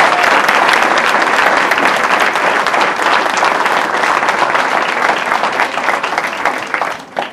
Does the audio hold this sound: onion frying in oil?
no